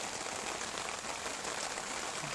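Rain falling steadily on a surface after dry, cracked ground, a dense even hiss of drops, close and continuous with no voices.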